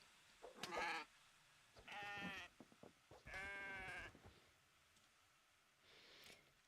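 Goats bleat in the Kenshi video game: three loud, drawn-out nasal bleats in a row, then a fainter fourth one, with no talking.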